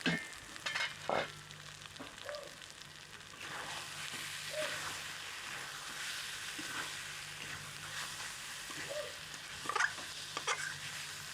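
Mutton pieces frying and sizzling in oil in a pan, a steady soft hiss throughout with occasional stirring scrapes and pops, close and moderately quiet.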